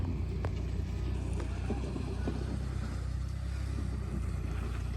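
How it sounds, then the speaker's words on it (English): A tractor knocks down and flattens a rice field in rural Thailand, its engine making a steady, loud, continuous rumble throughout, with wind buffeting the microphone. "knocking everything down with his tractor and making it as flat as possible"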